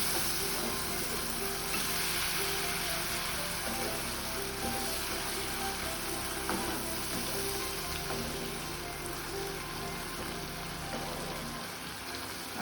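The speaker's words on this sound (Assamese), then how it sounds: "এইখিনি কম জুইত 5 মিনিটৰ কাৰণে এনেদৰে ভাজিব লাগিব" Fish with mustard seeds and a splash of water fry over low heat, giving a steady, close, bubbling sizzle with light stirring throughout.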